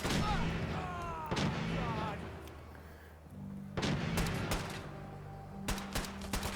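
Auto rifle gunfire in a video game arena fight, several sharp bursts of shots spread across the clip, with bright ringing tones and a voice speaking between them.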